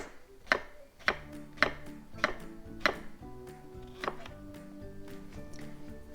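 A knife cuts a peeled English cucumber into thin slices on a board, crisp regular chopping taps about every half second, close and clear, tapering off toward the end.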